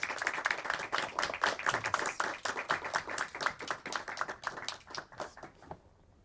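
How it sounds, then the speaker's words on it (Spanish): Scattered, lively clapping from an audience after a film-dialogue talk at a European film festival, individual hand claps clearly separated and fading out over about six seconds. "pedirles un último aplauso para los dos y muchas gracias"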